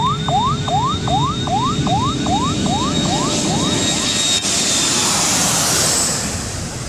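A jet airliner roars steadily at a busy airport where planes land and take off near an open runway, with a rapid series of repeated sweeping chirps over the engine noise during the first few seconds.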